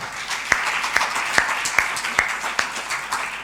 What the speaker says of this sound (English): Another round of applause, ladies and gentlemen.